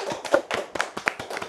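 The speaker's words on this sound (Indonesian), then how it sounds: "Boleh tepuk tangan dulu ya untuk Mas Gunawan." A small studio audience claps for Mas Gunawan at a talk show, a brief run of distinct, close hand claps in an uneven rhythm, with no talking over them.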